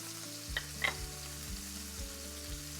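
Steak frying in a pan with butter for steak Diane gives a continuous soft sizzle, with a couple of brief clinks early on, over a low, steady tonal hum.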